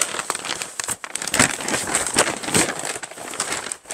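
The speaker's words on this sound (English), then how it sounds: "brown paper, if you guys can even hear me over the wrinkling." Continuous close crinkling and rustling of brown packing paper being unpacked from a shipping box and crumpled, busy and uneven throughout with no speech.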